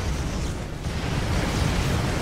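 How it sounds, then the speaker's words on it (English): Explosions in the video game Lost Planet 2 make a dense, loud, continuous roar of blasts and rumbling bursts that fill the whole moment with no clear gaps and no talking. "All I hear are explosions!"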